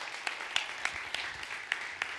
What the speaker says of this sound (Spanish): Le das aplauso fuerte.